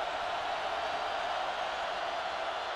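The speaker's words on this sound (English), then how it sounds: "Crowd is roaring for a defensive stop here." A college football stadium crowd at a Utah State at BYU game roars in a continuous, dense wall of noise, loud and unbroken across the whole moment.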